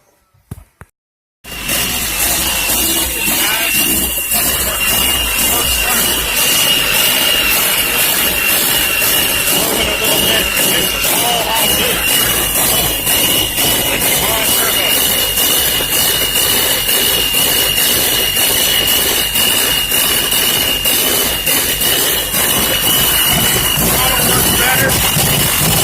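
Turbocharged Honda VTEC engine catching after a key start and running rough while warming up, a loud continuous raspy drone with a steady whine, after a brief quiet start.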